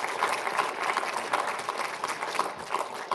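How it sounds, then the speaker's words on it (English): Church congregation applauds in a steady, moderately loud patter of many hands, continuous for a few seconds with no break. "I'm not going to ask you to clap anymore"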